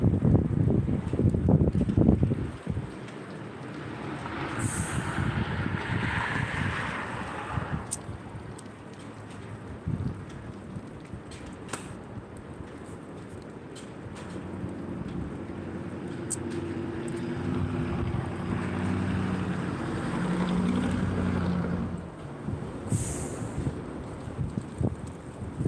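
Strong wind gusts of 40 to 50 miles per hour roar and buffet the microphone outdoors, making a pole sway, rising and falling in surges over a long rumbling stretch.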